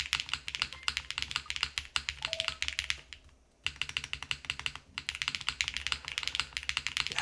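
Mechanical keyboard with GMK keycaps being typed on, with dense, rapid clacky keystrokes in steady bursts, close and crisp, and a brief pause partway through.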